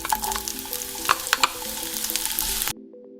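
Sliced onions frying in hot avocado oil, a steady close sizzle with a few brief louder crackles and pops, then cutting off abruptly near the end.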